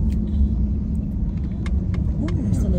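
Car driving over a bumpy road, heard from inside as a steady low rumble with scattered knocks and rattles, while people talk over it.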